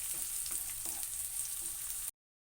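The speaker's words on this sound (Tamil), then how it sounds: "இது எல்லாத்தையும் சேர்த்து நல்லா வதக்கிக்கலாம்." Chopped vegetables, green chilli and ginger sauté in a hot pan for bread upma, a dense, close sizzle with light stirring scrapes that cuts off abruptly.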